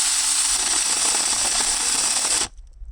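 A Tomyvic 6-inch battery mini chainsaw bogs down cutting wood, a loud rattling buzzing whine that strains for a couple of seconds and then cuts out abruptly into near silence.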